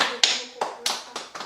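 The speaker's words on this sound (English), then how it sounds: "Clap for yourself once again" Hand clapping during a Yoruba language class, five or six sharp separate claps in an uneven rhythm, close and clear.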